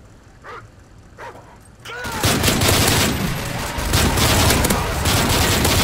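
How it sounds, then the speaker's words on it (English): Attack dogs outfitted with explosives bark amid dense gunfire in the video game Modern Warfare 3, a few faint barks up front before a loud burst of sustained firing takes over and continues to the end. "Attack dogs outfitted with explosives are in your vicinity."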